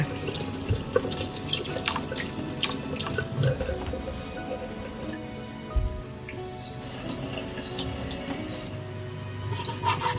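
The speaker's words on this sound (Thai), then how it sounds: "ล้างทำความสะอาดสตรอเบอรี่กันก่อนค่ะ" Tap water runs into a sink while strawberries are rinsed and handled, with splashes, drips and small clunks, close and continuous.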